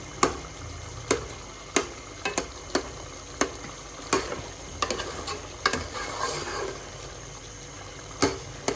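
Tomatoes for chicken karahi being mashed and stirred in a pan, with irregular sharp spoon taps and scrapes against the metal over a low, steady sizzle.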